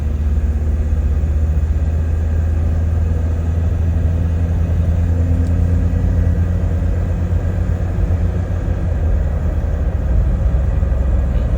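Car driving on a road during a test drive after a gearbox repair, where the gears had been shifting slowly and dragging. A steady, close engine and road rumble continues throughout with no talk.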